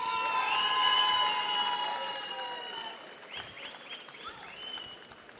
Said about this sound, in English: Let's have a louder round of applause